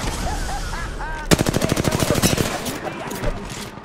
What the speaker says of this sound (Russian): Эй, по мне тут стреляют!